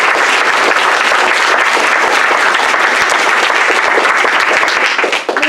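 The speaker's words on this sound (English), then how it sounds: "let's give them a round of applause." An audience at a school bond panel forum bursts into sustained, dense applause, many hands clapping loudly and evenly for several seconds before it starts to fade.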